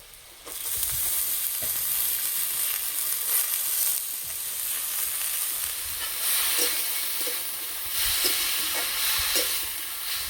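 Bathua greens frying with turmeric and cumin powder in a pan give a steady, close sizzle broken by scattered clicks and scrapes of stirring. No one speaks.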